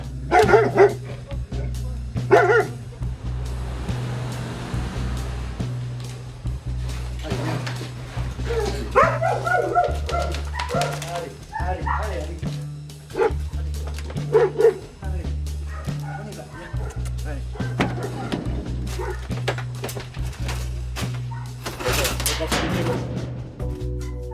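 Malinois dogs locked in small cages in a cellar bark, yip and whimper in frequent excited bursts through a long stretch, close by, while people talk and coax them over the noise.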